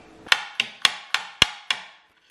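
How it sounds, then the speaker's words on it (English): A knife chops garlic on a wooden chopping board in a home kitchen, with six sharp, evenly spaced chops landing close by and quietly in under two seconds. "go on. Chop up the garlic."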